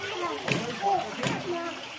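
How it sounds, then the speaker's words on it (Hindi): Water gushes up from a well under pressure, a steady rushing splash with sloshing surges, partly masked by people talking nearby. "तो नीचे प्रेशर माना तो पानी ऊपर आ रहा है"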